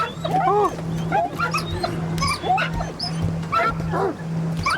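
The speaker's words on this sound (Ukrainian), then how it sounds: "Гау-гау, каже пес." A dog barks and yips repeatedly in the swamps of S.T.A.L.K.E.R. 2: Heart of Chornobyl, loud and close, with whimpers mixed in over a steady low hum.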